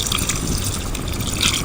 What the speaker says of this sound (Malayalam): നമുക്കിനി ലാസ്റ്റ് സ്റ്റേജിലുള്ള 1-ാം പാൽ ഒഴിക്കാവേ